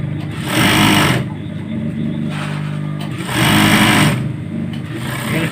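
A sewing machine stitches small baby shorts in two loud running bursts, each about a second long, with quieter humming pauses between them and no talking.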